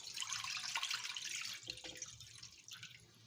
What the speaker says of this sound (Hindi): आधे जग के करीब हमने कढ़ाई में पानी डाल लिया।